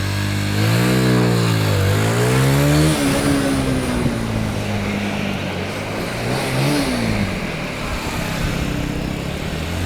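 A motorcycle engine revs hard during wheelie practice, loud and close, rising and falling in pitch over a few seconds before settling into a sustained roar.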